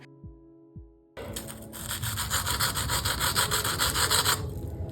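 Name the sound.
crunchy potato cutlets being cut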